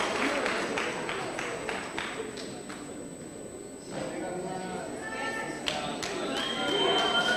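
Audience at a business workshop in Orange Farm clapping, a scattered run of claps under a host talking, then a fuller burst of applause toward the end.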